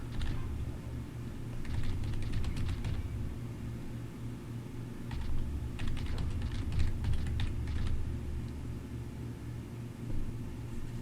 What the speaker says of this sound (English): So it is a typing game?